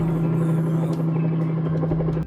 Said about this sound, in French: un bruit d'hélicoptère se fait entendre